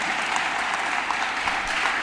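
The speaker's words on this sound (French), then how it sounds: "Est-ce qu'on peut acclamer pour la question?" An audience at a youth debate on choosing a spouse breaks into steady, dense applause that carries on evenly without pause for the whole stretch.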